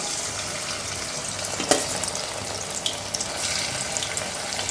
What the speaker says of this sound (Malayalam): ഇനി നമുക്ക് ഫ്രൈ ചെയ്യാം